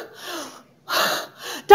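A voice imitates a panicked emergency patient's heavy breathing: two ragged, gasping breaths, in and out, loud and close, followed by a brief sharp sound at the end.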